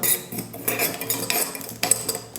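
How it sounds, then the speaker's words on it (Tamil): Close clinks and scrapes of a metal utensil against a pan roasting poppy and fennel seeds, with irregular stirring taps and rattles, no voices. "இப்போ ரெண்டும் நல்லா பொன்னுறவில் வறுத்துக்கலாம்."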